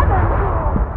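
A heavy cannon fires aboard a sinking sailing warship in the naval combat game Blackwake, its cannons underwater: one loud, close boom that starts abruptly and rolls off into a long, low rumbling decay.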